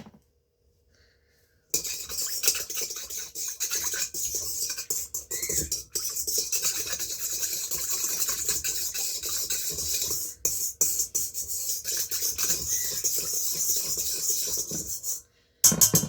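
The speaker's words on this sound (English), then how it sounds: "let's just give that a little whisk" A sugar mixture for sweet rolls is whisked in a bowl, a rapid continuous metallic scraping and clinking that runs steadily for about fourteen seconds after a brief silence, close up and without talk.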